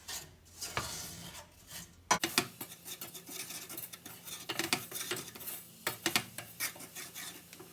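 A spoon stirring sugar in a pan as it melts toward liquid for caramel: quiet, steady scraping and clinking strokes in an irregular rhythm, close and soft.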